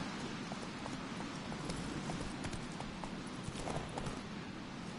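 Roach, Geralt's horse in The Witcher 3 video game, gallops with a steady, close clip-clop of hooves repeating through the whole stretch over a dense rushing bed of noise.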